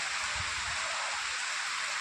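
A steady, dense hiss of heavy rain pours down without a break, close and even, with a faint low rumble underneath.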